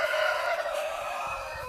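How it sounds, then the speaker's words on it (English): A rooster sounds off with a steady, strained crowing call close by on a small farm in spring. The tone is fairly loud against soft background noise. "And Freddie the rooster is not happy with me right now."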